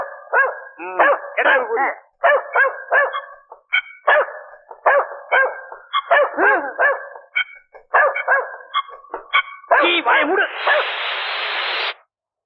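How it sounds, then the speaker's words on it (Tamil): A dog barks repeatedly in rapid bursts, loud and close, with yips and whimpers between volleys, ending in a wash of hiss. "உங்க தலையை பார்த்தா அதுக்கு பிடிக்கல அதுதான் நாய் குலைக்குது"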